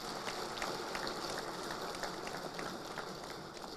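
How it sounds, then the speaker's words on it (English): A crowd at a Nigerian political gathering gives a steady, sustained round of applause, a dense even wash of clapping with no voices over it. "I want to say you deserve a round of applause."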